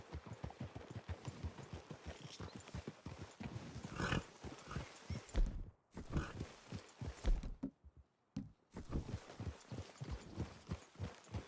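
Horses walk through a clearing in the video game Red Dead Redemption 2, with a steady, close rhythm of clip-clopping hooves, a brief pause, then more hoofbeats and no talk.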